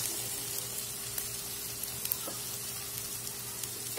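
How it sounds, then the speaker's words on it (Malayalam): Chopped carrot sizzling in a hot pan as it is stirred, a steady close frying hiss with faint scraping ticks and no voices. "ഇതിലേക്ക് നമുക്ക് അരിഞ്ഞു വെച്ചിരിക്കുന്ന ക്യാരറ്റ് കൂടെ ചേർത്ത് കൊടുക്കാം."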